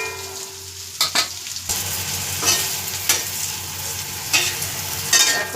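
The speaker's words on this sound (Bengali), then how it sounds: "দেখো পটলগুলো আমার ভাজা হয়ে গেল।" Pointed gourd (potol) fries in oil in a kadai pan, giving a steady close sizzle throughout with a few stirring clatters, and no talking.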